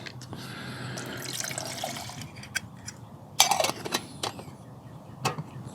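Two cups of water poured into a pot for a camp stove boil test, a steady trickling splash with a few sharper drips and clinks toward the end.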